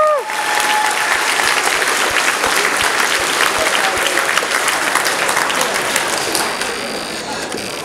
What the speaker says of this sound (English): Big round of applause for the desk team.